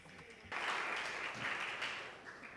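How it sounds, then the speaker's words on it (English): Audience applause for conference panelists breaks out suddenly after a brief spoken introduction and continues as a dense, even clatter of clapping through to the end. "An applause for them."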